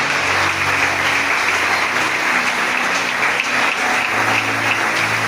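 Congregation in a church applauding together, a dense, steady clapping that fills the room and carries on evenly throughout with no pause.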